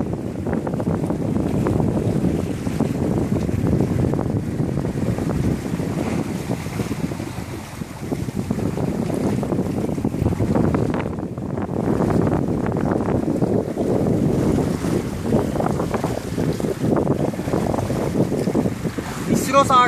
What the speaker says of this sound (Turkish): Yelkenle seyir halindeyiz. 13 knot civarı rüzgar var.